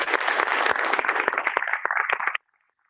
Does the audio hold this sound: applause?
yes